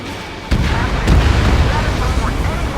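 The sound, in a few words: bombs exploding in Ace Combat 7 video game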